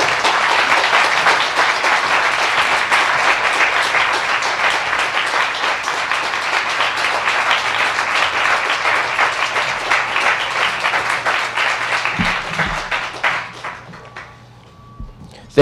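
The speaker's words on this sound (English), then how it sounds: "I hope you will receive him with applause" An audience at a housing resource center groundbreaking applauds a speaker being introduced, sustained dense clapping lasting many seconds before fading out into near silence, with a faint hum and a final tap.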